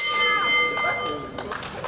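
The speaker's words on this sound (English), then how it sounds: "The bell has rung." A wrestling ring bell rings to start a Progress Women's Championship match, its sustained metallic tone ringing out over a loud arena crowd with a commentator talking.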